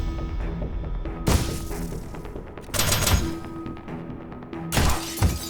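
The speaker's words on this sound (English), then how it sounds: "Let me just shoot him now." Gunfire in the turn-based tactical video game Tactical Breach Wizards: three loud bursts of rapid shots mixed with shattering crashes, separated by a rumbling game soundscape, with no talking.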